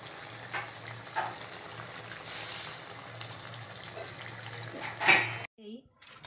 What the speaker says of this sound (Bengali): তেল ছিটবে বাবা, গরম তেল